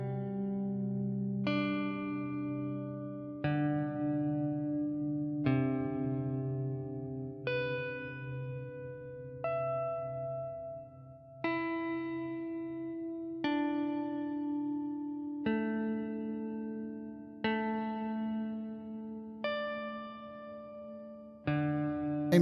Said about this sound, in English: There's your room reverb.